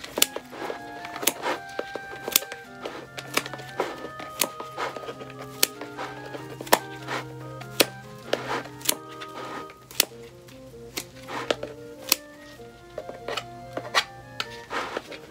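Azzurro Compact sky-blue plant stems being cut back with clippers, a steady series of crisp, close snips and small ticking clicks at an irregular quick pace, with no talk.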